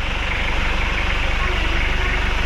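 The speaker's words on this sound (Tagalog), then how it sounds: "Kaya mga boss, ito na yung andar niya. Ayan. Sobrang ganda na ng andar." A replacement Toyota 2L diesel engine running steadily, a loud close idle with an even low pulsing throb that continues throughout.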